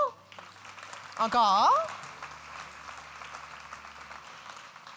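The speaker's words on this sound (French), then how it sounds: "On peut les applaudir." An audience at an entrepreneurs' banquet in Dieppe applauds with a spread of scattered clapping that lasts after a short burst of voices and a whistling tone, while a speaker talks faintly over the room.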